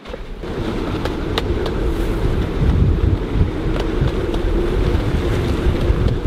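Strong wind blowing across an ocean atoll, a loud continuous rumbling roar buffeting the microphone, with faint higher ticks and rattles scattered over it.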